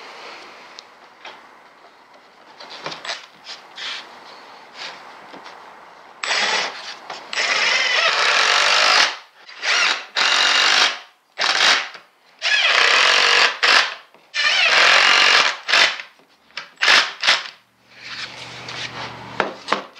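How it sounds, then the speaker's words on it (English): A power drill drives screws into a wooden nightstand, with repeated loud whirring bursts separated by short pauses, close and prominent throughout. "And now I can put in the screws."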